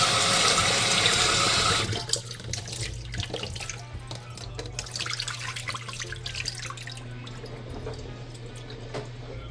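Water runs from a kitchen tap while dumplings are washed: a strong steady gush for the first two seconds, then splashing, dripping and intermittent trickling as the flow is handled, close and alone.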